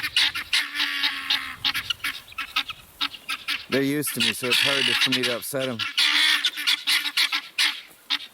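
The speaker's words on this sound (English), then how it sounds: "So that is the guinea alarm." Guinea fowl sound their harsh, repeated alarm calls in a loud, fast, honking chatter outdoors, with a burst of sharp rhythmic cries in the middle and someone speaking close by over the flock.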